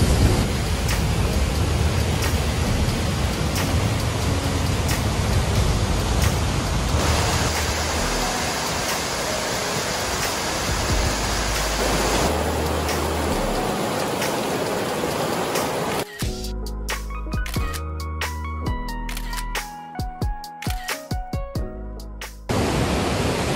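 Waterfall and rapids rushing in a gorge, a steady broadband roar that fills the first part, then gives way to choppier, intermittent water noise near the end.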